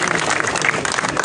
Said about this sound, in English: Please give them at least a clap.